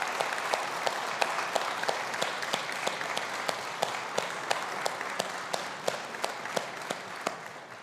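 A graduation ceremony audience of families and friends gives a sustained round of applause, broad steady clapping with a few sharper individual claps standing out, continuing evenly throughout.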